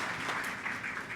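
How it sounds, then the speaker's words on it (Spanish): Short burst of audience applause at a formal event on the media and the administration of justice: many hands clapping together in a soft, even, continuous patter heard from a moderate distance. "Un aplauso, por favor"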